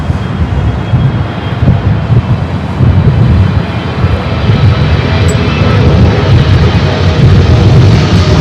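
A Cathay Pacific Boeing 777-300ER arriving from Hong Kong at Los Angeles International Airport, a loud, close, continuous engine roar with wind buffeting, building slightly toward the end.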